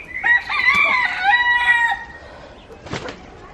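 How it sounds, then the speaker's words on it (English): Roosters crow in a crowded coop, one loud, near, drawn-out crow lasting nearly two seconds, then a short harsh squawk after a pause. "This is what happens when you have too many roosters in a coop."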